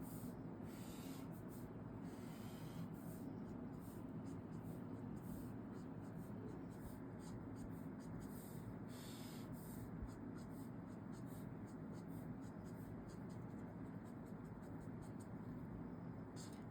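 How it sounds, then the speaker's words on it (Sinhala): A pencil draws a bamboo stalk on paper, making faint, steady scratching and rubbing strokes close by that continue without pause in a quiet room. "ඔන්න ඊළඟට අපි අඳිනවා පුතේ උණගස"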